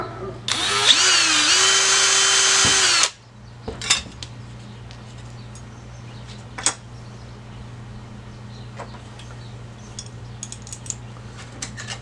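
A power drill bores a hole for nut plates in a metal sensor bracket for a Sonex aircraft, a loud steady whine lasting about two and a half seconds, then stopping, followed by a few light clinks of metal in a quiet workshop.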